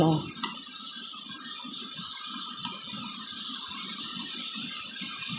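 Water flows steadily at Mambukal resort near Bacolod in the Philippines, a continuous rushing stream heard close and constant, with a faint tonal whine above it and low murmuring voices underneath.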